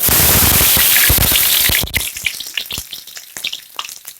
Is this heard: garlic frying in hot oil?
yes